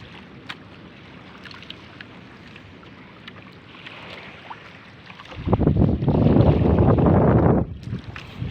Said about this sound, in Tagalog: Ang lakas ng simoy ng hangin.